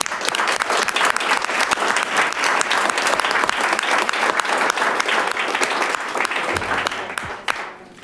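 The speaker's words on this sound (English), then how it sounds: "please give these businesses also a round of applause" Sustained applause from an audience at a county board of supervisors meeting, dense steady clapping for about seven seconds before tapering off and stopping near the end.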